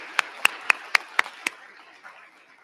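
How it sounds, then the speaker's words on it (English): Six sharp, evenly spaced hand claps ring out in quick succession and then stop, leaving quiet room sound. "Let's hear a round of applause for everybody."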